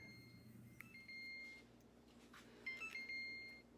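Soft electronic beeping chimes repeat in short bursts over a quiet room hum, like a kitchen timer going off.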